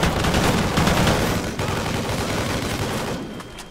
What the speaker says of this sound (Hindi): ये जब चलती है तो भाई धमाका क्या भयानक होता है।